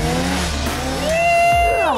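A Ski-Doo snowmobile in deep British Columbia powder revs hard during a wheelie, its engine note rising in pitch and staying loud and close for the whole stretch, with a voice briefly heard underneath.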